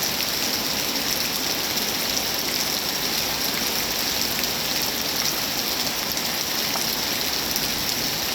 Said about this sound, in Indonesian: semoga hujan kali ini membawa berkah bagi semua alam